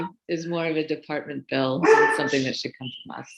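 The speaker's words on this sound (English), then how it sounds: "Sorry about the barking dog." A dog barks in the background of an online public meeting, its yips mixed under continuous talk from a participant.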